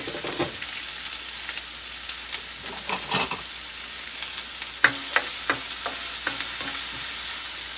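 Onions sizzling loudly in a hot skillet, a dense close hiss broken by repeated scraping and stirring knocks, continuing steadily without any speech.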